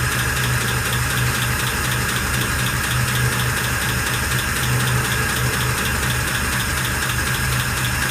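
A 1948 Pontiac Torpedo engine idles steadily after start-up, a close, continuous low rumble with an even, slightly knocking beat and no voices.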